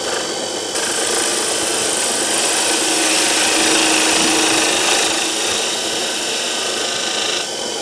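A fingernail gouge cuts a bead on spinning wood on a lathe, a bright continuous scraping hiss that starts abruptly, holds steady for several seconds and cuts off near the end, with no talk.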